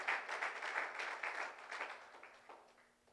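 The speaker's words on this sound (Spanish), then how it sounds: "¿Usted le puede dar palmas al Señor?" Congregation clapping for the Lord at a church service, a dense run of applause that thins and fades over about three seconds before a sharp close knock.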